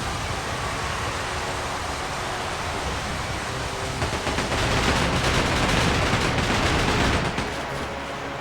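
Ship-to-ship cannon fire in Like a Dragon: Pirate Yakuza in Hawaii, a dense roaring barrage of booms over constant sea-battle noise, swelling louder and more rapid midway before easing slightly.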